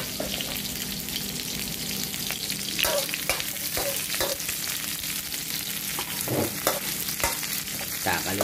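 Onions frying in a pan with garlic, a loud continuous close-up sizzle with repeated scraping and stirring taps from a spatula throughout.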